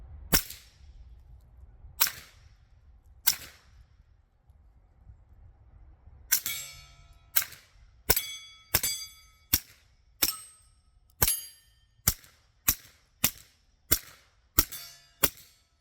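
A suppressed Taurus G3 Tactical pistol fires Sterling brass-cased ammunition outdoors: three spaced shots, then about ten sharp, clanging reports in a quicker steady rhythm, each close and loud with a short ringing tail and no speech.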